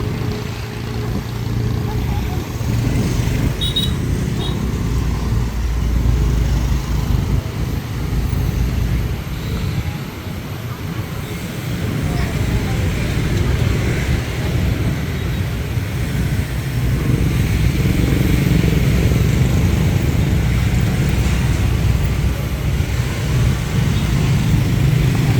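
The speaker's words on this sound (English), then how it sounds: "And look at the traffic." Night traffic crosses a long bridge in Hue city, a steady, dense rumble of engines and passing vehicles that continues throughout, with a person talking over it at times.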